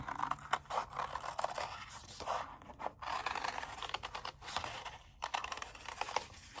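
Close-up scraping and snipping of scissors working through paper, a steady run of short crisp cuts with brief pauses, no voices.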